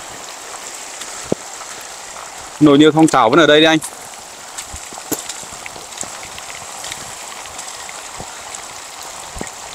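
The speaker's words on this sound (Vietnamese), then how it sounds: "vừa nấu được một bữa thì là trời bắt đầu mưa" Steady rain falls outdoors on a campsite where rice is being cooked over a wood fire, a continuous hiss of drops running through the whole stretch while a voice speaks briefly near the start.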